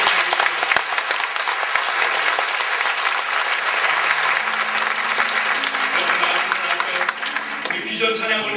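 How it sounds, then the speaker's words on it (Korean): A church congregation claps steadily and loudly in a long sustained round of blessing applause, with faint voices and tones emerging toward the end. "다시 한번 박수로 축복하겠습니다."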